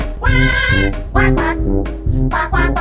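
A person's voice imitates a duck, giving a rapid series of loud, nasal quacks in short bursts of two and several, close to the microphone at a trampoline park.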